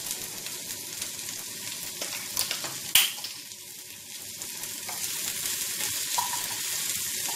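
Tomatoes with salt frying and sizzling in a pan, a steady close hiss with a sharp clatter as they drop in, then a continuous crackle.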